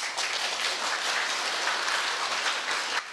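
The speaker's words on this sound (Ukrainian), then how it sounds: "Володимиру Балуху аплодували стоячи" An audience gives a standing ovation after a patriotic lesson, with dense, steady applause from many hands filling the room, loud and continuous throughout with no speech over it.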